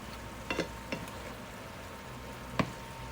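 Hamburger meat and onions fry in a pot for chili, a faint steady sizzle close by, broken by a few sharp clicks and taps of utensils, with no talking.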